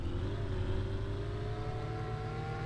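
Car engine in the Car For Simulator video game, a steady loud hum with rising revs that climb gradually over a few seconds, with no talking.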